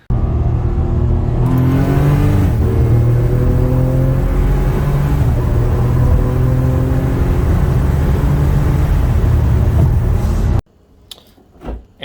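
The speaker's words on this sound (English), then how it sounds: "here is the acceleration video of how the car sits right now" A turbocharged Ford SHO with nitrous boost assist accelerates hard, its engine note climbing steadily through rising sweeps and gear changes, loud and close for about ten seconds before cutting off abruptly into quiet.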